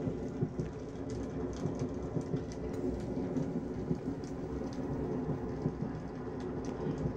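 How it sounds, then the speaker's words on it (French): Steady rain pounding on the windows of a moving night train, with the rails faintly rumbling underneath; a dense, continuous patter with small drop-like ticks, fairly close, no voices. "la pluie qui martèle les fenêtres"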